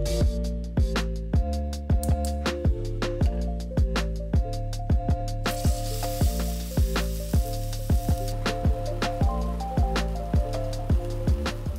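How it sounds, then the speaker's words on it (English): A prime grade steak fries in a pan on the stove, giving a steady sizzle that swells for a few seconds under loud rhythmic background music. "I'm just gonna cook it normal way in a pan on the stove"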